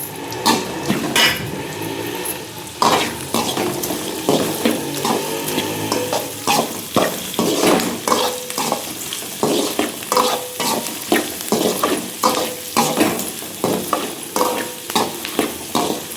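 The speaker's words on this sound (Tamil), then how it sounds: "அப்படியே கொஞ்சம் வதங்கட்டும்." Onions sauté in a pan with a steady sizzle and frequent clattering spatula strokes against metal, a busy, close, rhythmic stirring that continues throughout with no speech.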